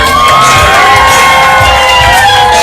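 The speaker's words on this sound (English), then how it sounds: "Yes, excellent cheering out there, guys." An audience at a live animal show cheers and whoops loudly in a dense, sustained roar of many voices close by.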